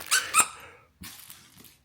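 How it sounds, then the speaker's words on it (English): A My Pet Monster dog toy gives two sharp, high squeaks in quick succession, followed by a softer, breathy squeak after a brief pause, close and alone with no talk. "It's a My Pet Monster dog toy."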